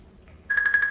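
A phone gives a short ringing tone with rapid pulsing trills that starts abruptly after a moment of near silence.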